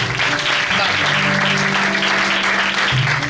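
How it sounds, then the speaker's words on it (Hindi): Applause at a church Christmas Eve 2021 service, a steady wash of clapping filling the room for about three seconds, with a low organ-like tone and murmuring voices underneath. "पहले इसके लिए जोरदार तालियां बजाएं।"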